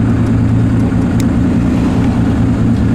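A 1959 Austin-Healey 3000 on its stock exhaust drives along with a loud, steady, deep engine drone that holds an even pitch throughout.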